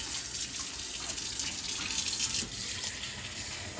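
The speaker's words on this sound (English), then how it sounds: "So I'm gonna go ahead, turn on the water." A kitchen tap runs steadily into a liquid measuring cup, a continuous close hiss of flowing water with no talking.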